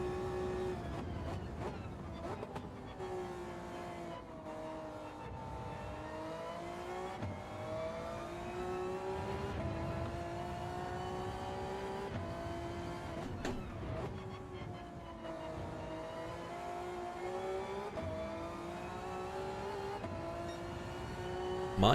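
Gr.3 race cars circulate on track in Gran Turismo 7, their engines a faint but unbroken whine that rises and falls as they accelerate, with no voices over it.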